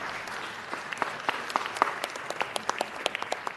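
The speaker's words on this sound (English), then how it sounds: "give them a round of applause" Applause at a city council meeting honoring a Hollywood restaurant's 100th anniversary: a moderate room-wide patter of scattered claps with sharper individual hand strikes, steady and fairly close, no talking.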